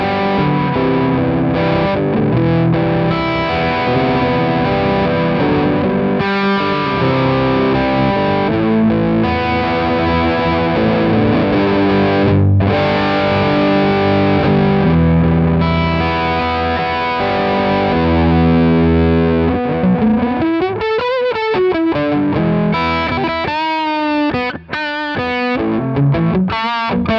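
Heavily distorted electric guitar through two distortion pedals, including a VauxFLORES Tropicalia, plays sustained, dense chords and notes, loud and continuous, ending with rapid wavering bends and swooping pitch effects.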